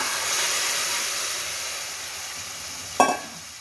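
Boiled drumsticks drop into masala that is frying in a pan, with a steady hiss of sizzling. One sudden sharp burst of sizzle comes as the pieces go in, then it settles back to a softer fry, and there is no talking.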